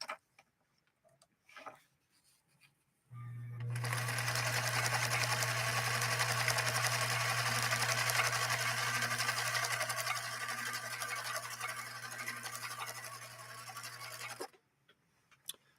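A Husqvarna Viking 21E sewing machine stitches through velvet in a steady, continuous mechanical whir with a fast ticking rhythm, close and loud for about eleven seconds after a quiet start, then stopping abruptly.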